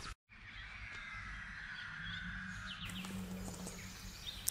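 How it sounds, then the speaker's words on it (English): A magpie calls outdoors with short harsh chattering caws, fairly faint and distant over a steady background hiss, alone without speech. "I've spotted a magpie just on my walk back"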